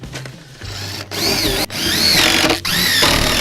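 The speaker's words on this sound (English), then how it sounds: "got the top screwed down" A power drill drives screws into a wooden gym bench top, three whining bursts with rising and falling pitch separated by short pauses, loud and close with no talk.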